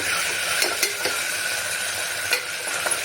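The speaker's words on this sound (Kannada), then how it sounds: "ಇವಾಗ ನಾನು ಇದಕ್ಕೆ ಸ್ವಲ್ಪ ಶುಂಠಿ ಬೆಳ್ಳುಳ್ಳಿ ಪೇಸ್ಟ್ನ ತಗೋತಾ ಇದ್ದೀನಿ. ಹಾಕಿ ಚೆನ್ನಾಗಿ ಮಿಕ್ಸ್ ಮಾಡ್ತಾ ಇದ್ದೀನಿ." Ginger garlic paste is stirred into onions and chillies frying in a pan for tomato rice, giving a steady sizzle with occasional scraping taps of the spoon against the pan.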